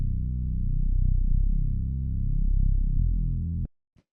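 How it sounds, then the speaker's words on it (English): Thick, rough Reese-style bass synth built from two detuned saw waves, heard alone as a sustained, slowly phasing low drone with beating ripples for about three and a half seconds before cutting off, followed by a faint click. "It's just like a Reese bass. So all I'll show you is 2 saw waves,"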